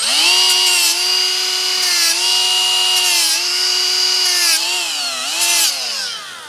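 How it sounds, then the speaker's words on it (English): A power buffer grinds against steel, smoothing off the edge left by a center punch dimple on a trailer chain, its loud, close whine running continuously and shifting pitch slightly as pressure changes. "And I'll buff it off."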